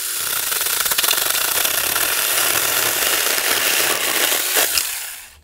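Tomyvic 6-inch battery mini chainsaw cuts through wood at a campsite, giving a close, continuous buzzing rasp that runs for several seconds before stopping abruptly.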